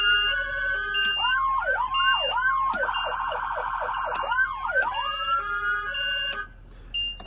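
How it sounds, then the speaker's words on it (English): A Chevy 3500 fire and medical response truck cycling through siren tones, loud and close, with wailing sweeps shifting into a fast yelp and back before cutting off. "So it has all your different siren tones."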